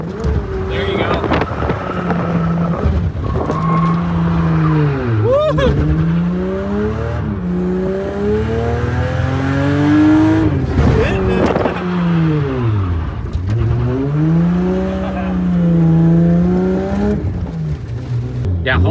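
A Lexus SC300 drift car revs hard during a clutch kick, its engine note climbing and falling in repeated sweeps, loud and close, with wind buffeting the microphone and a voice talking over it.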